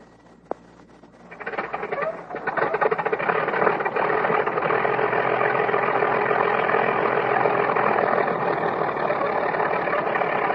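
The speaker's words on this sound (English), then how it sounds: "One of the engines warms up." A World War I airplane engine warming up on a runway at dawn, starting after a brief click and building to a steady, loud droning rumble that holds to the end.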